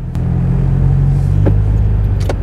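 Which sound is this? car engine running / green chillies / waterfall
car engine running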